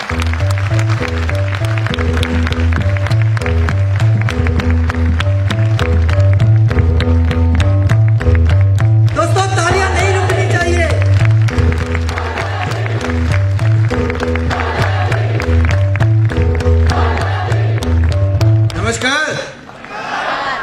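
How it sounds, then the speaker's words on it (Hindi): At a stage event welcoming a company director, an audience bursts into loud applause and cheering for a few seconds midway, largely buried under pounding stage music with a strong steady beat. "एक जोरदार ताली हो जाए"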